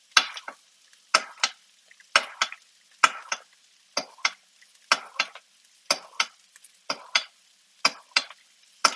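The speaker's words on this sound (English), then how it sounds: "So just tilting the skillet down and grabbing a spoon and giving a little basting." Spoon basting butter over food in a tilted skillet with the heat off: a rhythmic series of about a dozen short splattering spoonfuls, each a brief bright sizzle separated by near-silence, close up.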